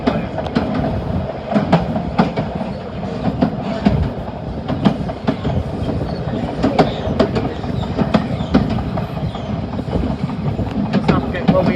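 A London Underground Piccadilly line train pulling out of a station, heard from on board as a steady rumble with rhythmic clicks of the wheels running over rail joints, loud and close, with some voices in the background.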